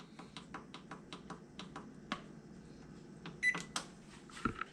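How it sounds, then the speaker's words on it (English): Oven control panel being set to preheat to 450 degrees, giving a series of short sharp beeps and button clicks in a quiet kitchen, evenly spaced at first and then a few louder presses near the end. "we'll go ahead and start to preheat our oven to 450"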